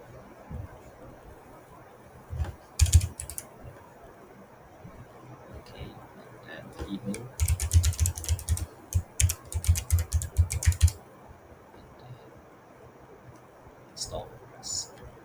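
Fingers type on a computer keyboard in two short bursts of quick, close key clicks, separated by a quieter stretch with faint background noise.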